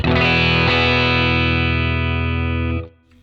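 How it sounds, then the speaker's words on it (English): A sustained, slightly gritty electric guitar note on the bridge pickup rings out loudly through a 1967 Fender Deluxe Reverb amp for nearly three seconds, then cuts off abruptly. "here's our bass tone on the bridge pickup. We've run this a little dirtier, so check this out."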